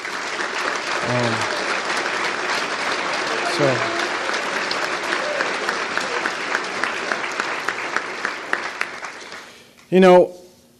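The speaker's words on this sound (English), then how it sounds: "So please, let's clap it up for our seniors." An audience applauds seniors at a campus press conference, with steady dense clapping for about ten seconds; a few voices speak briefly underneath and the clapping fades near the end.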